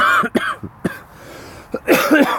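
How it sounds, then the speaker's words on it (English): Several sharp, harsh coughs close by: a quick burst of three or four, a pause, then a heavier, rougher cough fit at the end. "I don't know why I cough so much."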